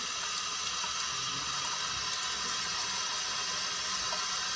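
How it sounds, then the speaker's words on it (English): Water runs steadily from a sink tap in a clinical setting as hands are about to be washed, a constant close hiss of flow with no talking. "We turn on the water."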